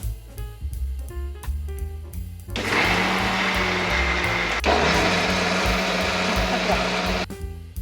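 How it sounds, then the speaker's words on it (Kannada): Mixer grinder blending sprouted ragi with wheat, almonds and water, starting with a loud steady whirring grind that runs for several seconds, briefly dips and restarts, then cuts off; no talking. "ಸ್ವಲ್ಪ ಮೊಳಕೆ ಬರಿಸಿದ ರಾಗಿ ಜೊತೆಗೆ ಗೋಧಿ ಮತ್ತು ಬಾದಾಮಿ, ಸ್ವಲ್ಪ ನೀರನ್ನು ಕೂಡ ಹಾಕಿ ಚೆನ್ನಾಗಿ ನುಣ್ಣಗೆ ರುಬ್ಬುತ್ತಾ ಇದ್ದೀನಿ."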